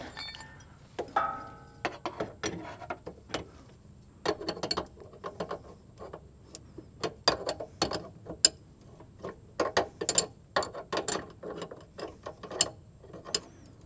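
Wrenches tightening a fuel filter fitting on a GM 2.2L Ecotec, with scattered metallic clicks and ratchety taps in irregular bursts, close and fairly quiet, no speech.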